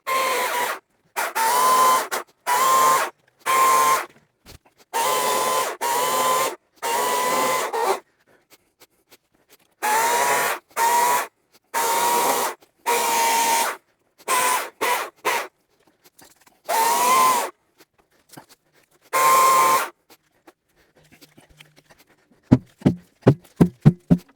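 An EGO CS2005 20-inch battery chainsaw whines loudly in repeated bursts of a second or two, separated by short silences, as it cuts firewood up close.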